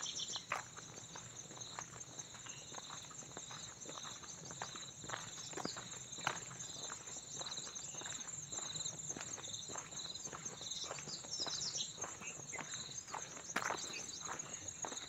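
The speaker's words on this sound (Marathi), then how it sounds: "हे पक्ष्यांची किलबिलाट ऐका" Birds chirp and twitter in the distance at dawn in a Konkan village over a constant high insect drone, with faint scattered ticks and no voices.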